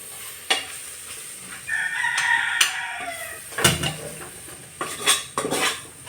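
Masala for kappa biryani being stirred in a pan, with scraping spoon strikes and clinks against the metal at irregular intervals over a soft sizzle, while a rooster crows in the background.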